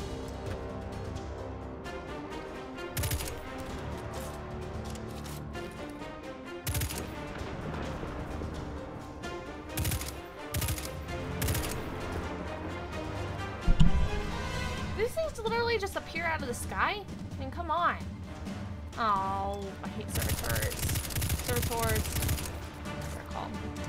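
Pulse rifle fire in the Destiny 2 video game, short repeated bursts of gunshots crackling in a busy firefight mix, with someone talking over the action.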